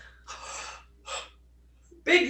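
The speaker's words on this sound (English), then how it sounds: "Big yawn indeed." A person gives a big yawn, heard as long breathy exhalations with pauses between them, close and fairly loud, and a voice starts just at the end.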